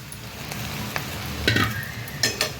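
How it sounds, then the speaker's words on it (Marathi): Poha tipped into a pan with onion, potato and turmeric and stirred with a spoon, a continuous sizzle broken by several sharper scraping knocks of the spoon against the pan. "आता ह्याच्यामध्ये पोहे घालूया"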